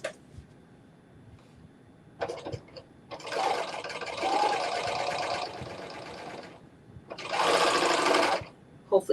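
Sewing machine stitching the front of a caftan to the back, running in two sustained bursts of close, steady whirring, the second one shorter, with quiet pauses between them.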